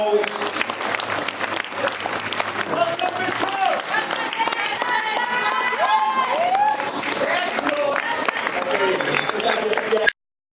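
Audience applauds bodybuilding champions leaving the stage, steady dense clapping with crowd noise running throughout, then cutting off abruptly near the end.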